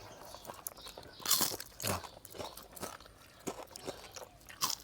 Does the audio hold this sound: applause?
no